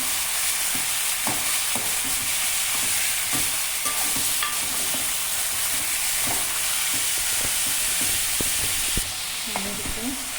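Chicken chops sautéing in a pan over a medium flame give a steady, close sizzle with occasional stirring clicks and scrapes throughout.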